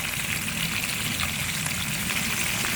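Chicken sticks sizzle in hot oil over a medium flame, a steady dense crackle and hiss that holds evenly throughout, close and fairly loud with no voices.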